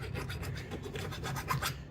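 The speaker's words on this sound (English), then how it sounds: "So we'll just take some jeweler's files. We'll go around as much as we can with this flat one first." A flat jeweler's file deburring milled locomotive frame parts: quiet, close, rhythmic rasping strokes, about a dozen back-and-forth passes of metal on metal.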